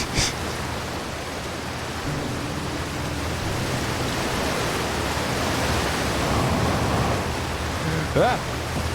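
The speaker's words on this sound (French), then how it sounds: "Bon alors, on se refait pas avoir par la cascade." Waterfall in the video game Outer Wilds, a dense steady roar of rushing water that fills the whole stretch, with a brief sharp tone near the end.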